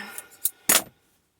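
Scissors cut through vintage lace fabric at close range: a couple of light snips, then one louder, crisp snip, followed by silence.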